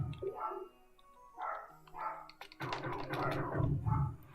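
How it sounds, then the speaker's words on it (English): A dog in the Somnium Space virtual world game barks and yips repeatedly at moderate volume, the barks coming in uneven bursts that grow denser and louder toward the end. "The dog will calm down when the people stop hanging out all over the place"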